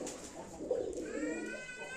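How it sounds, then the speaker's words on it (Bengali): Pigeons coo softly in a home loft, a few low rolling calls close by with a faint higher bird note trailing near the end. "বনু কবুতর, বনু কবুতর, এটা বনু কবুতর"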